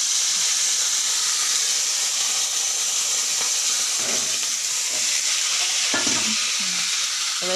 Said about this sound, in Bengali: গাজর আলু পেঁয়াজকলি ভাজা আমার মেয়ে বানাচ্ছে